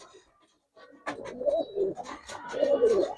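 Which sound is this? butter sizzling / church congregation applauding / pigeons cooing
pigeons cooing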